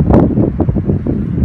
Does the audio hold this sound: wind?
yes